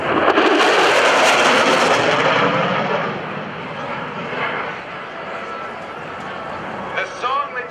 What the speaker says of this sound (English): Is the original A model of the F-16 Fighting Falcon.